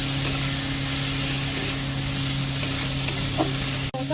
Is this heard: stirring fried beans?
yes